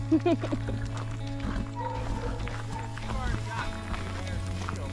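A horse is let out into a pasture, with hoof clip-clops and movement heard faintly beneath people talking and a low steady hum.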